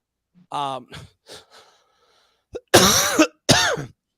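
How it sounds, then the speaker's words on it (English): A few short coughs, then two louder, harsher coughs close by, with a brief pause between bursts. "Sorry, I was coughing and I got it all over my screen."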